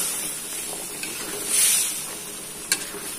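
Tofu and tempe being stirred in a frying pan, giving a steady close sizzle with soft scraping strokes, a louder hiss swelling midway and a sharp utensil knock near the end.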